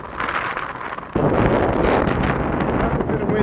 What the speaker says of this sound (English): I know it's pretty windy.